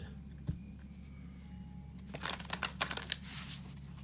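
Deck of tarot cards being shuffled by hand, a brief burst of soft riffling and crisp card flicks following a single tap, quiet and close with no talk.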